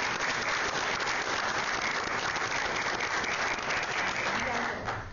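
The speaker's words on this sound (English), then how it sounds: "I'd like to ask that you join me in a round of applause for the great work of our staff and students." A school audience applauds staff and students at a Vista High School board meeting, a steady dense wash of clapping that fills the room and holds evenly before tapering slightly at the end.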